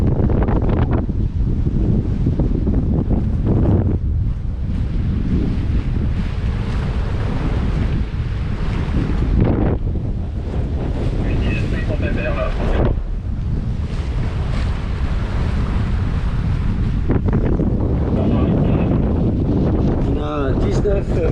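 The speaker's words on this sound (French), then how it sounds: "je vais juste vous montrer le grain" Strong squall wind roars across the microphone aboard a sailboat running under jib alone in 19-20 knots, with waves and water rushing steadily throughout and a brief lull near the middle.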